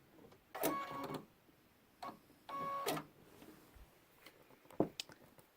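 A sewing machine stitching a zipper onto a backpack, running in several short whirring bursts of varying length separated by quiet pauses, heard up close.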